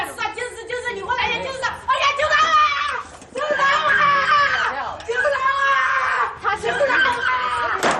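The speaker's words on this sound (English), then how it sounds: "You can hear a woman inside the black jail screaming for help" A woman screams and cries out for help inside a black jail in China, with frantic, high-pitched wailing in repeated bursts mixed with other agitated voices, loud and close.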